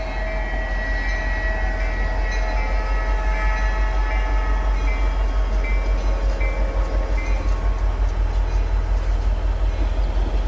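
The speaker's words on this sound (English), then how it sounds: "As PD9 approaches, it's going to bring its train to a stop to speak with the customer" HO scale model freight train rumbling steadily along the layout as it approaches and slows to a stop, with a continuous low rolling drone and no voices.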